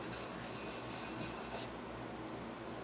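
A cloth rubs back and forth over a tarnished vintage metal Aladdin lunch box. The polishing makes a steady, close, scratchy friction sound with a faint rhythmic texture.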